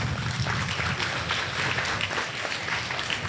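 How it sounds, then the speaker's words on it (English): Audience at a school bust-unveiling ceremony giving a round of applause, a steady wash of many hands clapping throughout, moderately loud with no speech. "I think we should really give them another round of applause"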